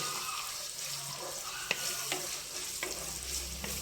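Onion paste frying in oil for a mutton curry sizzles loudly and continuously, with a few sharp crackles and pops and faint stirring throughout.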